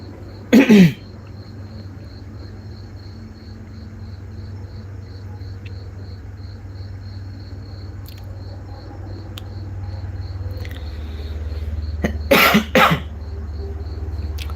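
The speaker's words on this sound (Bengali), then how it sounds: "কাশি হচ্ছে" A person coughs twice, once at the start and again near the end, in a short harsh burst each time, over a quiet room with steady crickets chirping and a low hum.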